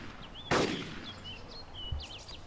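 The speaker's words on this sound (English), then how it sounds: "someone's trying to shoot at me" A lone enemy gunshot in the military video game ARMA 2 cracks out sharply once, followed by ambient birdsong chirping in the background and a faint dull thump later.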